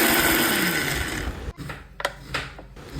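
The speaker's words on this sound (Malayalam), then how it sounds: "നന്നായി മിക്സിയിലിട്ട് വെച്ചിട്ട്" A kitchen mixer grinder whirs loudly and steadily as it grinds onion, ginger, chilli and curd with water and salt, then cuts off abruptly halfway, leaving a few faint clicks and knocks.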